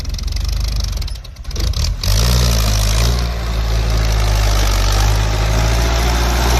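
A Kubota L4708 tractor engine idles with a loud, steady low rumble. It briefly roughens, then settles into an even chugging drone.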